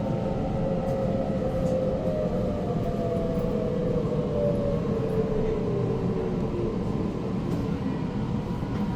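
Interior of a Sydney T3 Bankstown Line train running from Central: a steady rumble of wheels and carriage with a faint tone gliding slowly downward, continuous for the whole stretch and without talk.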